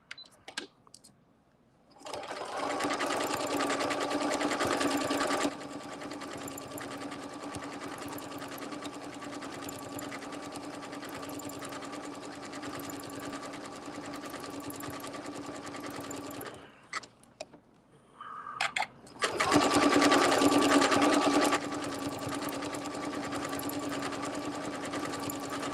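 A sewing machine runs in long steady bursts while stitching a circle, its rapid mechanical chatter continuous and close, stopping briefly near the middle and then starting again.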